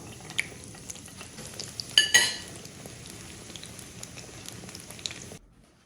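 Five-spice scallion pancake dough deep-frying in hot oil gives a steady close sizzle and bubbling, with a sharp clatter of utensils near the two-second mark, then the sound cuts off abruptly just before the end.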